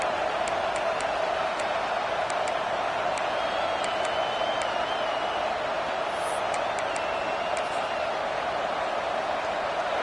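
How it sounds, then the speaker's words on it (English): A football stadium crowd keeps up a constant roaring wash of cheering, with faint whistles and whoops rising through it, heard under a commentator's talk. "This crowd ready to make its presence known"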